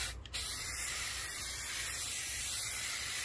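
A spray paint nozzle hisses in one steady, close burst after a brief start while painting Pontiac Grand Prix window panels, holding a constant airy rush throughout with no talking.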